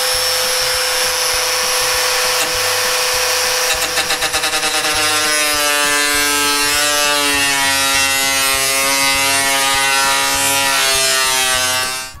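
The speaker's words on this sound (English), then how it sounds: "I start by cutting an old skill saw blade at 5/8 of an inch wide." A power tool whines steadily as it cuts into an old skill saw blade to make strips for wood beading tools, a loud, close, sustained high-pitched grind with a rising tone that stops abruptly at the end.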